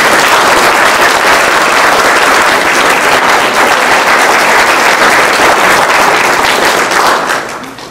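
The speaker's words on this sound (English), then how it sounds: "I think we should give them a great big round of applause" Loud, dense applause from an audience at a meet-the-candidates event for council and mayoral candidates, steady clapping that holds strong before tapering off at the close.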